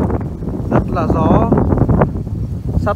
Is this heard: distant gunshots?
no